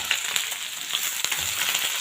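Potatoes sizzle steadily in a pan, a bright continuous frying hiss with small crackles and one sharp tick, close and fairly loud with no talking.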